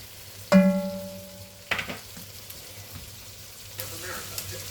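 Onions softening in a pan for goulash, a faint, steady sizzle under a couple of sharp tonal clanks and some brief knocks.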